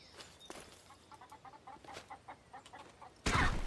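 Chicken clucking in The Saboteur video game, a string of short rhythmic clucks at moderate level, ending in a sudden louder burst of flapping noise.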